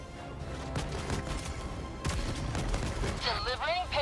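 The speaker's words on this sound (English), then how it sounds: "There's so much shooting me." Enemy bot gunfire in the video game Helldivers 2 rattles in dense overlapping volleys, heavy thuds and crackling shots filling the scene, with a voice briefly heard toward the end.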